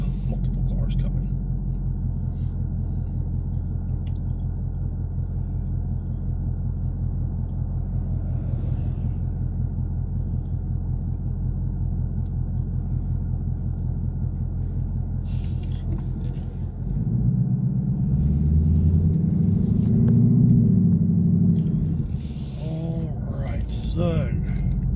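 Several cars approach and pass on a road, a steady low rumble that swells into a louder, closer pass near the end, with a voice talking faintly over it.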